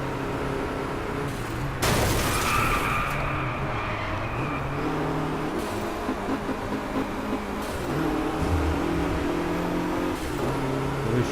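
Engine of a car in the Driveclub racing game revving hard toward the red line, a sustained loud roar with a sharp burst near the start and shifting engine pitch throughout, no talking.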